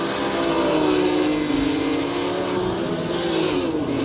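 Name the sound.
1958 Grand Prix race cars passing, Nürburgring, Assetto Corsa game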